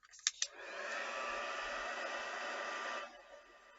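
A hair dryer blows steadily for about two and a half seconds, drying a layer of oxide ink on a craft print, with a couple of brief clicks as it starts and a quick cutoff at the end.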